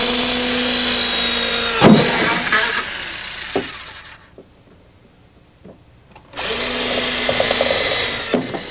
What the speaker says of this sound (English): Then you drill your holes according to the template.